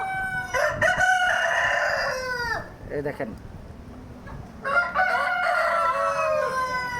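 On a poultry farm with automatic drinkers, a rooster crows loudly twice among other chickens, with someone speaking briefly between the crows.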